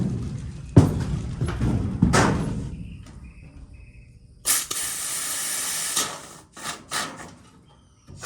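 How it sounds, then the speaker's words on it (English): Spray foam hisses in bursts as it is sprayed from the bottom up into the joints of a shed to seal it, with several sharp spurts near the start and a long steady hiss in the middle, all fairly close. "we're gonna spray foam all of the joints again like they had"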